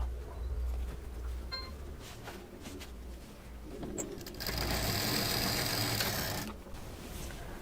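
A sewing machine stitching fabric strips for a patchwork bedsheet, whirring steadily and close, with a louder, faster burst of stitching near the end and a low hum underneath.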